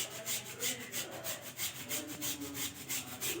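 A block of jaggery is grated by hand in a rhythmic run of close, raspy strokes, about three per second and steady throughout, with no voices.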